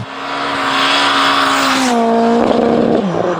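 A 550 hp Peugeot 306 race car roars past up close, its loud engine note holding high and then dropping sharply as it goes by.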